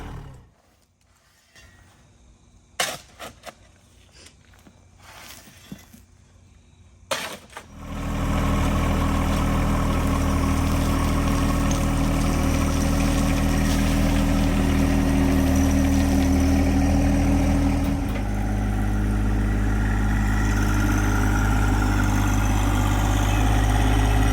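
A few faint clunks and knocks, then the small engine of a John Deere 1025R compact tractor starts and settles into a steady, loud, rumbling idle that continues to the end.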